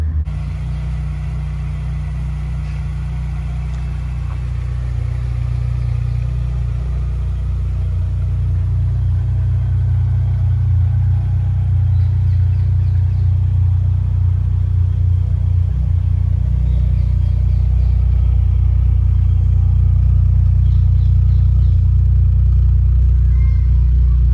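A car engine idles steadily and close, a deep continuous rumble that rises slightly partway through.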